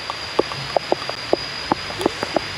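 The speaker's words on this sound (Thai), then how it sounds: "ป้าโธ่ฝนตกพี่น้องเอ้ย" Rain falls steadily, with distinct drops pattering on a surface in an irregular rhythm over a soft continuous hiss.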